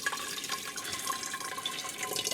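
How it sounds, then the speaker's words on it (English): Water pours from a tap into a dyeing pot, a soft, continuous splashing trickle, fairly quiet and close, with no talking over it. "I'm now going to have to add a little bit of water into here."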